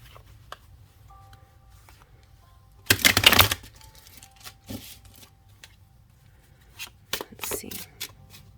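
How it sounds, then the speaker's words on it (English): A deck of tarot cards is shuffled close by: quiet handling clicks, then a sharp riffling burst, followed by scattered taps and a second shorter flurry of card noise. "Maybe I'll give it a better shuffle."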